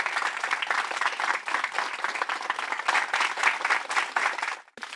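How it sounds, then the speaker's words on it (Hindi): Sustained applause from a sizable audience, steady and dense for several seconds before cutting off abruptly at the end. "ताली इनके लिए भी बजना चाहिए"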